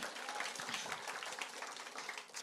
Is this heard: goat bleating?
no